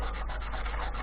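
Sandpaper rubs along the grain of a purpleheart wood pen in a short, close, scratchy burst of steady rasping strokes.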